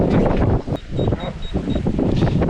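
Wind at sea on a sailboat sailing close-hauled, a strong, low buffeting roar across the microphone with a brief high tone; a person speaks over it partway through.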